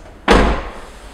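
A car's driver door, on a vehicle with accident damage, unlatches and swings open in one sharp, close thunk that rings briefly and then fades.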